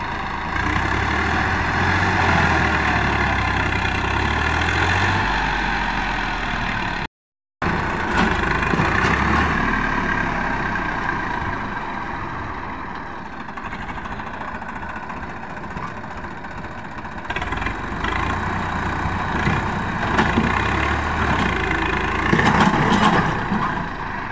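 A Swaraj tractor engine runs loud and continuous during a stunt on a farm field, its heavy low rumble broken only by a brief cutout partway through.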